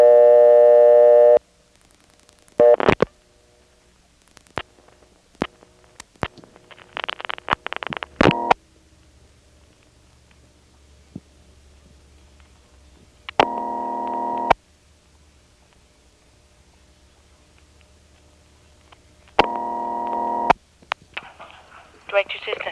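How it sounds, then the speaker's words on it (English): Dialing 9411 through a 1977 step-by-step telephone exchange: a steady tone cuts off, then pulse clicks, relay clatter and bursts of ringback tone follow over a quiet line, with a voice briefly heard. "We'll dial 9411 and notice how it goes through."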